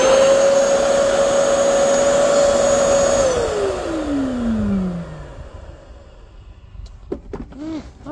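A vacuum cleaner motor whines loudly at a steady pitch, then is switched off and spins down with a falling tone into fading rumble, followed by a few faint clicks and handling sounds nearby.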